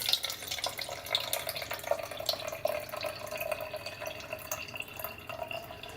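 Berkey-filtered tap water trickles into a bottle in a light, continuous splashing stream with small drips, faint and close in a quiet room.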